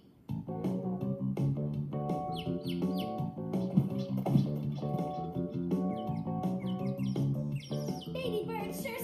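A baby bird chirps in a Nick Jr. cartoon, with bright, happy tweets running through continuous cheerful musical score, close and lively for the whole stretch.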